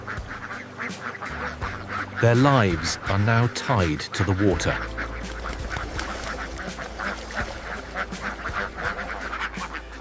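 A large flock of ducks feeding along a river quacks and honks in a dense, overlapping chorus, loudest in a burst early on, while a narrator speaks over the birds and a low steady hum runs underneath.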